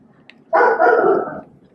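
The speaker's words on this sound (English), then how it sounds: "I'm so sorry about my dogs." Dogs let out one loud, sustained bark-whine burst lasting about a second, close by in a quiet room.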